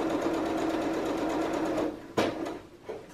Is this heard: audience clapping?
no